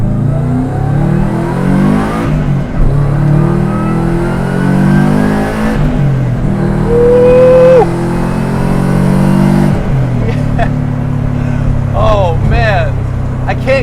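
A 2001 Subaru Impreza coupe with a swapped WRX engine revs hard through a loud Tomei Extreme exhaust, climbing through gears in repeated surges, with crackles and pops as it lets off.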